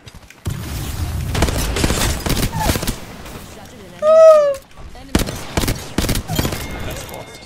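Apex Legends gunfire in short bursts of rapid shots scattered across the clip, with a tonal in-game alert chirp in the middle and a player's voice talking between the shots.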